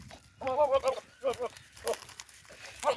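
Goats grazing in a herd on a summer day bleat in quick, wavering calls, several overlapping up close with brief pauses between.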